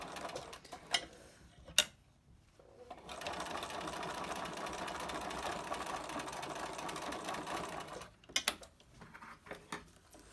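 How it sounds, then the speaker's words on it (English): A sewing machine topstitches a fabric face mask in one long steady run of rapid stitching. Brief bursts of stitching come before and after it, split by short pauses and small handling clicks. No one speaks. "Then we're going to just top stitch that down."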